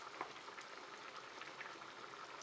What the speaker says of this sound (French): Et puis vous laissez mijoter à feu doux.